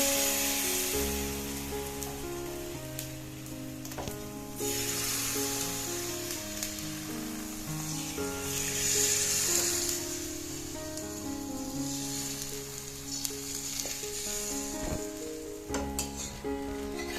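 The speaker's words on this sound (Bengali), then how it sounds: "কড়া তেলটা আমার গরম হয়ে গেছে। দিয়ে দিচ্ছি গুলিয়ে রাখা মিশ্রণটি।" Egg and flour batter sizzling in hot oil for a paratha, a close, steady frying crackle that swells and eases while faint tonal background sounds run beneath it, with no voices.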